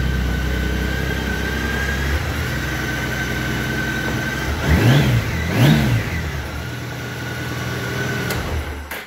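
Car engine idling and revving after fresh spark plugs, running unevenly with a rough, missing rhythm; two sharp rising-and-falling revs stand out midway over a steady nearby idle.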